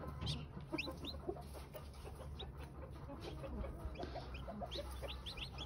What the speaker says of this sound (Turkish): Şimdi biraz civcivimi getirdim.